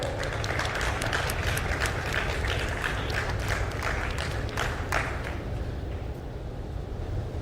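Audience applause greeting guests onto the stage at an NDTV health campaign launch event, a steady dense wash of clapping from a large crowd filling the whole stretch and thinning slightly toward the end.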